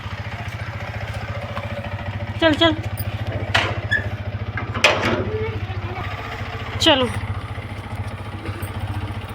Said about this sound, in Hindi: आज मामा की बाइक में जाएंगे हम